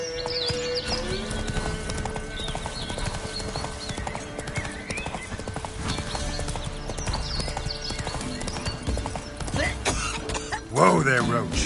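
Roach, Geralt's horse in The Witcher 3, gallops with rapid, steady hoofbeats close by, ending in a short whinny, while a low voice and background game sound play underneath.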